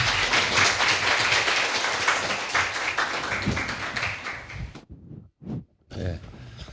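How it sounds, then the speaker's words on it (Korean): An audience at an Ewha academic forum lecture gives a round of applause for a professor. The clapping is steady for about four seconds, thins out, then stops abruptly, followed by a few brief noises and near silence. "큰 박수로 환영해 주시기 바랍니다"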